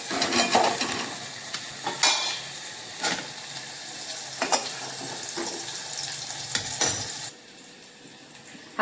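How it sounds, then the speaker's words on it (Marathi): Onion softening in oil in a pan for a Sindhudurg-style vegetable dish, a soft frying hiss broken by repeated scrapes and taps of stirring, fairly close, then quieter toward the end, with no talking. "जरासा कांदा मऊ होईपर्यंत जरा परतायचा तेलावर."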